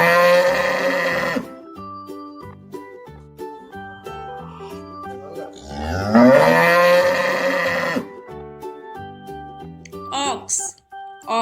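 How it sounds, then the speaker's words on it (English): A cow moos loudly and close, two long drawn-out calls separated by a pause, with a soft musical tone playing beneath. "Cow."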